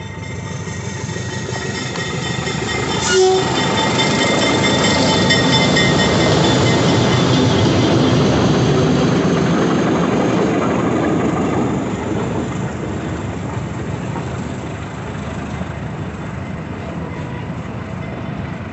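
A train rolls past nearby on the railway line in Santa Luz, Bahia, Brazil, in the early morning, with a continuous heavy rumble and rattling wheels, a short horn-like tone early on, the noise slowly fading toward the end.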